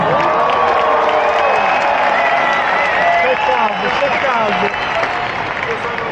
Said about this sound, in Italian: facciamo sentire il tifo del Renzo Barbera!